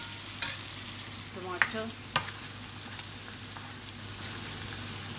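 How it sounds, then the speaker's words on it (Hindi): Spices frying and being mixed for butter karahi, a low steady sizzle with a few distinct scraping stirs and clinks early on, and a single spoken word briefly heard. "ये तो स्पाइसेस वगैरह इसमें मैंने अच्छे से मिक्स कर दिया।"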